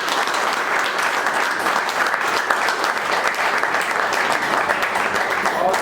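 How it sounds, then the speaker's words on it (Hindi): A large audience at a leaders' meeting breaks into loud, sustained applause for the women, a dense and even roar of clapping throughout, with scattered voices beneath it. "मैं चाहूंगा कि हमारे देश के नेता लोग हमारे महिलाओं के लिए एक बार जोरदार ताली बजाएं।"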